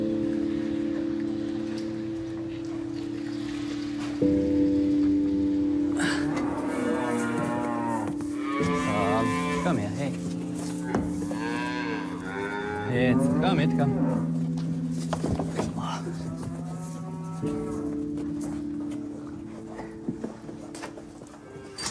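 Dairy cows on a farm mooing repeatedly, several long, loud lowing calls overlapping one another over a constant tonal background hum, with some faint clatter between calls.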